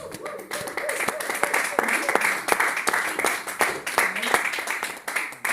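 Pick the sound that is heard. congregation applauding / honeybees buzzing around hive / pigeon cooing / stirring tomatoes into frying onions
congregation applauding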